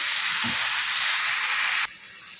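Spiced rice mixed with turmeric, salt, sugar, raisins, ghee and ginger and cumin paste hits hot oil with a loud, steady hissing sizzle, close by, then drops sharply to a softer crackle near the end.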